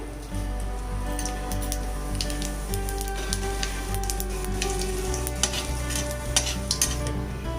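Asafoetida and cumin sizzle in hot oil with a continuous crackling fry, a few sharp pops and clinks of a spoon, over a low steady hum.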